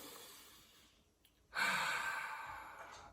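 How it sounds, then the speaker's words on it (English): A person draws one deep breath in, a quiet faint inhale near the start followed by a loud, airy rushing intake up close that slowly trails off. "taking a deep breath"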